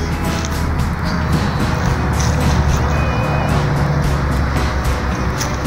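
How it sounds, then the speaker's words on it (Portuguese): Cars rush past on the opposite side of the Limeira–Piracicaba road, a constant loud traffic roar heard from the roadside with steady wind-like noise. "Esses carros que estão passando do lado de lá da pista, do lado contrário"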